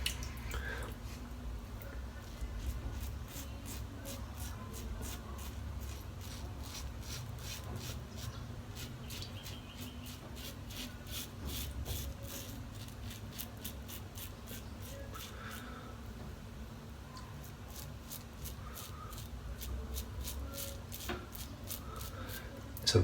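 A West Coast safety razor shaves the neck through Bay Rum soap lather, making close, repeated short scraping strokes in quick runs with brief pauses between passes.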